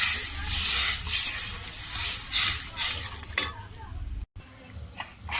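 Water poured into frying spiced masala for a fish and lentil dish hisses and sizzles loudly in surges, then settles into a lower bubbling sizzle with a spoon stirring, close up.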